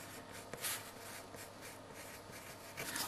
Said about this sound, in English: so I'm going to write a little note